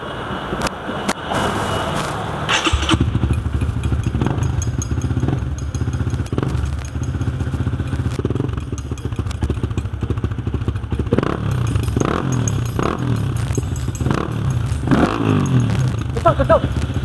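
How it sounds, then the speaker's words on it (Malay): Honda motorcycle with an abnormal engine noise, started and then idling and revving close by in a repair shop, with rapid clattering pulses over a steady rumble and people talking at times. "Nanti motor ni start engine. Rem kejap. Bagi dia dengar dulu."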